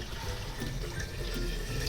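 Fresh water is poured into a pot to make meat stock for biryani, a steady, continuous splashing and rushing of liquid heard alone, fairly loud and close.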